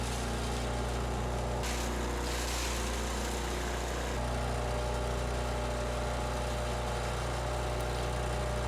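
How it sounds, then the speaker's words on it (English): A chipper shredder runs steadily nearby, its engine drone constant while debris is fed through the chute, with a brief change in texture partway through. "I keep a stick close by that I use to push the fine material into the chipper knives with."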